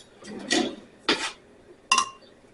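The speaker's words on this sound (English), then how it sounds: "I'm going to stir that up." Spoon stirring tea with sugar in a pot: three separate clinks or scrapes against the pot, fairly close and clear, with no talking.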